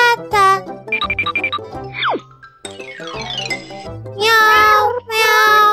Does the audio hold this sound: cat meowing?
yes